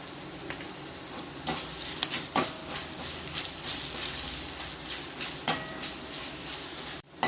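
Spices and turmeric powder sizzle in hot oil in a pan for lemon rice, a steady frying hiss broken by sharp scraping stirs and clinks of a spoon against the pan.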